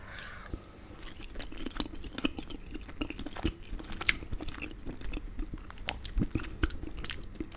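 Close, wet chewing and soft crunching of chicken parmesan with cheese, steady mouth sounds and bites continuing throughout without speech.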